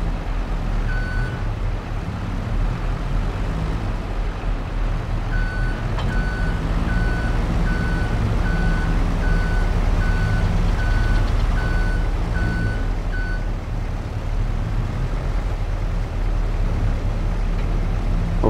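A truck in Farming Simulator 22 reversing, with a steady series of high reversing beeps over a loud low engine rumble, beeping for several seconds before stopping while the engine keeps running.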